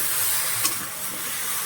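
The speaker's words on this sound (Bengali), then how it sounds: "এভাবে করে ভালোভাবে নাড়াচাড়া দিতে হবে" Eggplant and potato fry in a pan as they are stirred, a continuous close sizzle with a faint scrape of the spoon and no voices.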